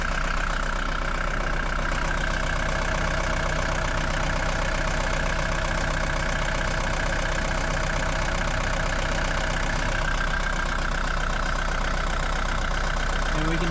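A Mercedes W123 with a faulty voltage regulator and a dead battery idles steadily nearby, a continuous even engine hum with no voices over it.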